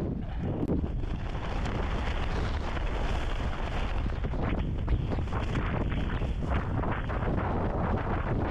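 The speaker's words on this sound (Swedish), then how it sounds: "Och så här blåser det väldigt mycket" Strong wind roars across a winter tent camp in a storm, with gusts battering the microphone in a loud, unbroken rush and no one speaking.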